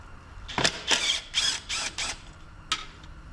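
A ratchet turns a 13 mm bolt during engine removal on a Jeep Wrangler TJ, giving five quick bursts of close, crisp clicking followed by one last short burst after a pause.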